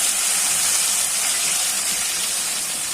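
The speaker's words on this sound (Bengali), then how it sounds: "এখন শাকগুলো দিয়ে দিচ্ছি।" Fresh water spinach drops into hot oil with fried garlic and sets off a loud, dense, continuous sizzle with bright hiss, steady and close with no talking.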